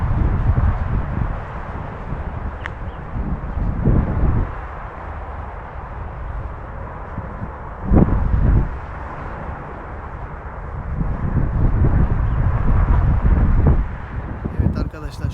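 Wind buffeting a GoPro Hero 8 microphone in selfie mode outdoors, heavy low rumbling gusts that swell and subside, with someone talking throughout beneath the roar.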